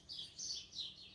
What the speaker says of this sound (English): Those birds are crazy, huh?